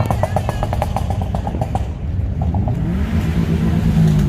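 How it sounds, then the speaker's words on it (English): A Chevrolet Camaro rumbles on the street at a cruise night, its steady engine note climbing into a rising rev toward the end, fairly close amid outdoor background noise. "Camaro out on the street acting a fool."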